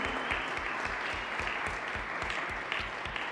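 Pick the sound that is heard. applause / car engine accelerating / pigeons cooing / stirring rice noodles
applause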